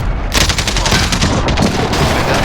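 Shotgun fire in the video game Modern Warfare, loud close blasts in quick succession with a dense crackling burst and booming low end, filling the whole moment.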